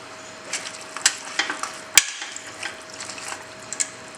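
Lentils and water being stirred in a cooking pot, with soft scraping and sloshing strokes and a few sharp clicks of the spoon against the metal, close up and without speech.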